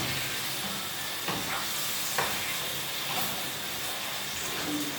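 Zucchini and mixed vegetables frying in a pan give a broad, soft hiss of steam with a few scattered clinks as they are mixed, fairly quiet and continuous.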